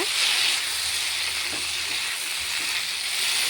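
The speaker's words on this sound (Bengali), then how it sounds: "পাঁচ মিনিট ভাজতে হবে তাহলে ভালো লাগবে খেতে" Vegetable curry with a ground paste of ginger, cumin and chilli frying in a pan on a low gas flame, giving a steady, close, continuous hiss and sizzle with no talk.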